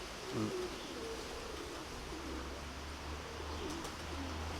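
A pigeon coos softly a few times at moderate distance, its low calls sitting over a steady outdoor background hum with no voices.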